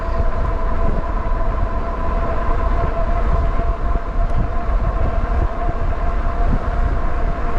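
Steady wind roar and low rumble buffet the rider of a PUCKIPUPPY Bulldog e-bike at speed. The noise is loud and continuous throughout, and no voices are heard.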